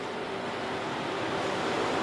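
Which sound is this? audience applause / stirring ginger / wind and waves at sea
wind and waves at sea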